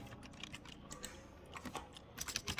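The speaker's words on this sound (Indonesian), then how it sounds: "kita akan ketikkan ini nmap min a localhost" Close, quiet computer keyboard typing, an nmap -A localhost command entered in irregular key clicks, sparse at first and then a quicker burst of taps toward the end.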